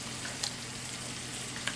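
Lamb curry sizzles faintly in a pan as it is stirred, a soft steady frying hiss broken by a couple of light scraping clicks from the spoon.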